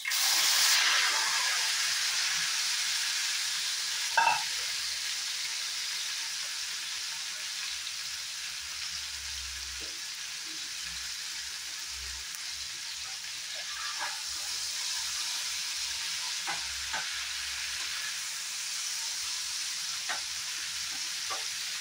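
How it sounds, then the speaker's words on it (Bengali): Cut okra fries in hot oil with a soft, steady sizzle and hiss, punctuated by a few faint stirring clicks and pops, heard alone without talk. "এই তেলে আমি কেটে রাখা ভেন্ডিটাও ফ্রাই করে নেব।"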